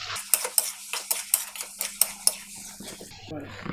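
A metal utensil stirs chilli chicken with capsicum and tomato sauce in a pan, with regular scraping clinks about every quarter second over a low sizzle, then softer mixing at the end.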